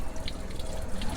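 Water gushes steadily from a high-set faucet at a campsite dishwashing area in Indang, Cavite, a close, continuous splashing rush with no talk.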